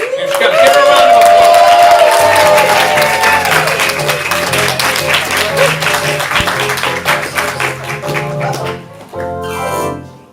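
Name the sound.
audience applause for improv performer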